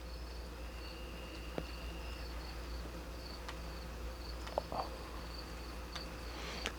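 Crickets chirp outdoors as a faint, steady insect drone at low level, with a few brief clicks and ticks scattered through it and no voices.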